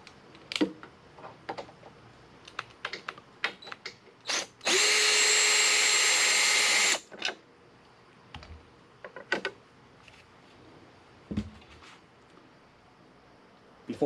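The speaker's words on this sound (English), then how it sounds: "Four Phillips head screws right there. I'm going to go ahead and loosen those up" A power drill loosens Phillips head screws on the top cap of a Minn Kota Talon trolling motor: one loud sustained whir of about two seconds, framed by scattered clicks and handling knocks nearby.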